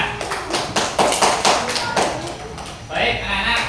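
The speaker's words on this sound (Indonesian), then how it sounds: "Tepuk tangan buat norma kesopanan." A school class claps together in a loud, fast burst of applause that fills the room, fading briefly before a final swell.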